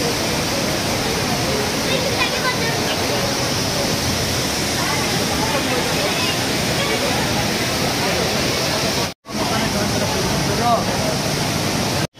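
The Kapila Theertham waterfall in Tirupati roars in a steady, dense rush of falling water, loud and unbroken apart from a split-second dropout near the end.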